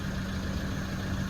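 Toyota Revo 2.8 pickup engine with the accelerator held down, a brief, steady, unbroken drone at constant pitch, with no voices over it.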